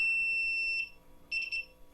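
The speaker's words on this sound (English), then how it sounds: "Oh, there's the alarm on it. You can hear just how loud it is." A Lockdown Puck monitoring system alarm sounds nearby with loud, piercing electronic beeps: one long tone, a pause, then a burst of quick pulses, with no voices.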